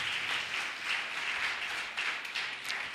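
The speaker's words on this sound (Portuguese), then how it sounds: "Você pode aplaudir ao Senhor?" Congregation applauding during a church service, a steady, dense wash of clapping that fills the whole moment at moderate level with no speech over it.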